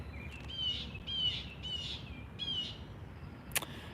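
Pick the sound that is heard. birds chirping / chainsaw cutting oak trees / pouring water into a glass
birds chirping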